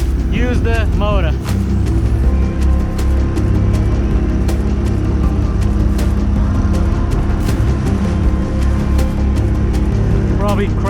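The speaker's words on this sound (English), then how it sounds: "When all else fails, use the motor." An outboard motor runs on a boat out on Barnegat Bay, a steady, loud low drone that continues throughout. Wind and water noise mix in, with brief chirping sounds near the start and end.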